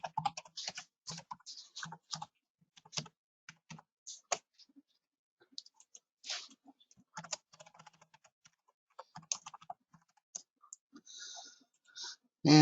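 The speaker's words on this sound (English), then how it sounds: "So I type in my username, and I type in my password." Keystrokes on a computer keyboard entering a username and password at a VPN client login, in irregular bursts of close, crisp clicks with short pauses, ending in a louder clack.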